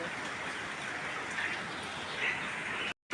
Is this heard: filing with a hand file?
no